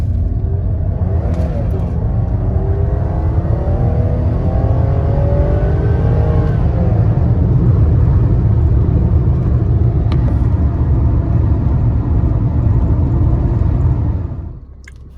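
A Mercedes W124 300E-24 with a rebuilt KE-Jetronic fuel system drives along the road, a steady loud engine rumble heard from the cabin, rising briefly as it accelerates before easing off near the end.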